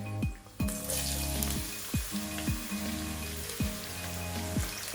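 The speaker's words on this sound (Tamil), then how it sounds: "இப்ப இந்த எண்ணெய் சூடா இருக்கிற நேரத்துல நான் வெட்டி வச்சிருக்கிற வெங்காயத்தை போட போறேன்." Chopped onions go into hot sunflower oil for a fish curry, sizzling and crackling steadily up close with a scatter of sharp pops throughout.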